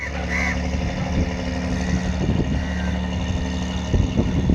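A fishing boat engine drones steadily at Kasimedu fishing harbour in Chennai, with a low rumbling hum and faint knocking.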